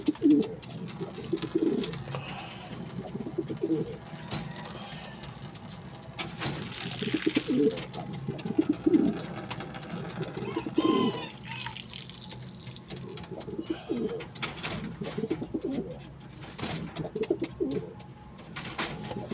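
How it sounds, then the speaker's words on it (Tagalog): Pigeons coo repeatedly nearby in soft, throaty bursts, with occasional flutters and light dripping or rustling in the background. "nagliliparan yung mga natin, mga kalapati natin"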